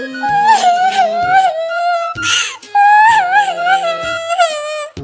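A high-pitched cartoon bird's voice sobs and wails in long, wavering cries, loud and close, broken by a short pause midway.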